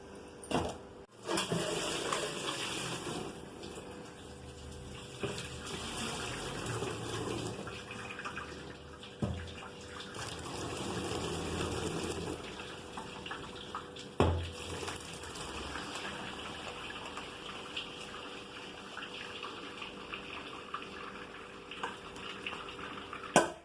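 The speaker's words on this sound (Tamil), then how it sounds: "இதில் வந்து அந்த சாப்பாடை வடிகட்டிடலாம்." Cooked rice for temple-style puliyotharai is poured through a strainer set over a vessel, giving a steady watery rush with occasional metallic clinks of the pot, fairly quiet and without speech.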